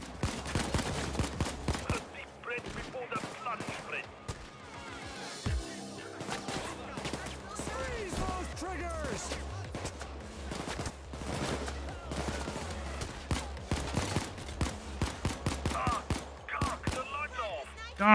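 Bursts of gunfire in the video game Payday 2, sharp repeated shots in clusters over a low steady rumble, mixed with faint game voices.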